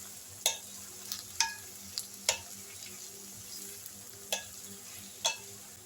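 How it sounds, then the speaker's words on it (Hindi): A spoon stirs garlic, green chillies and tomatoes frying in a pan, giving a steady low sizzle under roughly seven sharp, evenly spaced scraping clinks, close and clear, with no talking. "इसके बाद दो हरी मिर्चें शामिल कर दें और जो 4 टमाटर काटे थे वो भी शामिल कर दें और इनको अच्छी तरह आपने मिक्स कर लेना है।"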